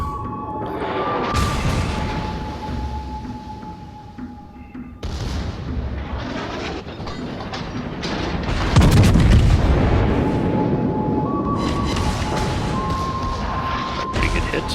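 The USS Massachusetts battleship fires its guns in a World of Warships naval battle, with several heavy booms and blasts rising out of a continuous rumbling din, loud and close.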